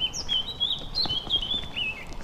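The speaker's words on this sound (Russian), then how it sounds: "Поют птицы различные" Several birds sing and chirp in a Swedish forest, with high, rapid warbling phrases that carry on continuously at moderate distance over a soft outdoor background.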